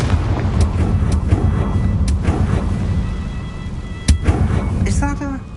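A Confringo blasting spell goes off in Hogwarts Legacy, a loud explosive boom over a dense rumbling game soundtrack, with a sharp crack near the end followed by a short tinkling chime.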